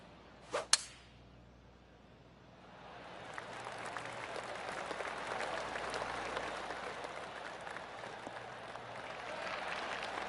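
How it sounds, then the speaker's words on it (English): Scattered golf applause drifts around the course in the video game PGA 2K25, a soft, distant patter of claps swelling in after a sharp crack near the start and holding steady to the end. "I can hear the golf claps around the course."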